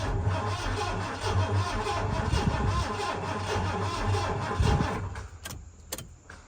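A project truck's engine cranks over sluggishly on a weak, nearly dead battery, a steady labored mechanical churn lasting several seconds before trailing off, with a few sharp clicks near the end.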